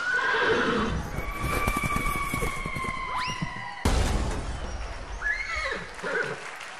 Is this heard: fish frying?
no